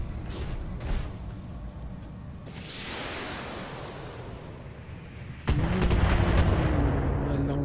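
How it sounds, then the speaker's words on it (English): Missile turret in the BattleTech video game firing long-range missiles, a rumbling barrage of launches and impacts that swells midway, then a sharper, louder burst of blasts near the end. "A long range missile turret,"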